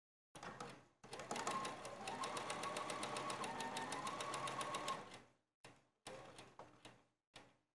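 Electric sewing machine stitching the facings onto a coat, one long continuous burst of rapid needle chatter followed by several short stop-start runs, close and clear in a quiet room.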